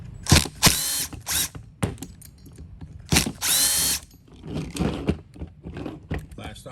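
A power tool whirs in short bursts as it backs out the motor mount bolts on a Traxxas Nitro Rally RC car, several sharp spins close up, with ratcheting clicks and handling noises between them.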